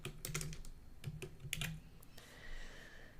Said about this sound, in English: I'll just type news here.